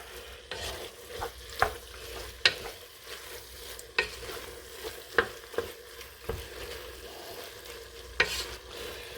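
Guinness stout bubbles and sizzles as it reduces in a hot pan for a lasagna sauce, with a steady frying hiss punctuated by repeated sharp scrapes and clinks of a utensil stirring, close and moderately loud, no talking.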